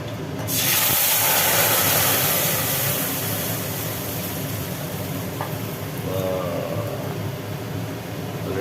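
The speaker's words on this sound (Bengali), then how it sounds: "কলায়ের ডাল সাঁতলানো হচ্ছে" Kalai dal is tempered with bay leaf in hot oil, a loud, close, continuous hissing sizzle that bursts in abruptly after a brief quiet start and holds steady to the end, with no talking.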